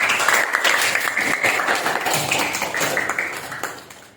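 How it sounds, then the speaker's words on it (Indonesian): A classroom audience bursts into applause, a dense patter of many hands clapping close by for about four seconds before tapering off. "Jadi berikan aplaus."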